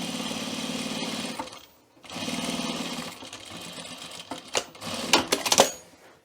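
A sewing machine stitches a welt pocket seam through fabric, running in two steady, close-up bursts of rapid mechanical buzzing separated by a short pause, then a few scattered clicks and handling noises.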